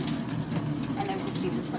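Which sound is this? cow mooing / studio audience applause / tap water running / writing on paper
tap water running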